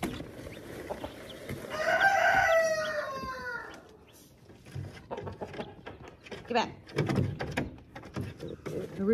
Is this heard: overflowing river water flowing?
no